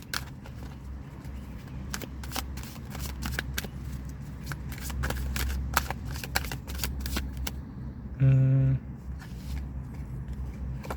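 Tarot cards are shuffled and dealt into piles, giving a steady run of crisp, close card flicks and slaps over a low background hum, with a brief tonal buzz near the end.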